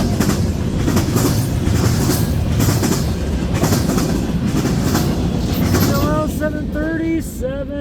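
CN freight train M357, led by locomotive 3383, rolls past at Ladysmith, Wisconsin, with a loud, steady roar and rhythmic wheel clatter. High wheel squeals rise near the end.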